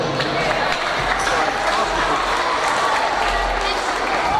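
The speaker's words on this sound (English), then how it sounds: "I think that deserves a round of applause." An audience at a school football opening ceremony in the British Virgin Islands applauds, loud sustained clapping with some crowd murmur and faint cheering blended in across the whole span.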